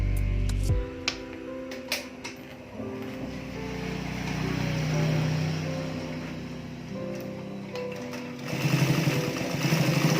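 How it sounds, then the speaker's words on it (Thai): A sewing machine stitches along the edge of leather for vintage-style leather sandals, a low mechanical whirring run after a few sharp clicks, steady for several seconds before rising at the end. "ขั้นตอนเราก็มาเย็บนะครับ"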